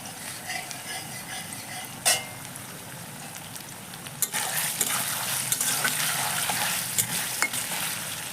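Sugar melts and caramelizes in hot oil in a pan before chicken goes in, with a steady close sizzle and frying hiss that carries a few sharper pops and spatters throughout.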